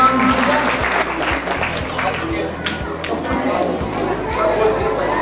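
A crowd at a village school prize distribution claps loudly and continuously, mixed with chatter and voices, with a few footstep-like thumps under the clapping.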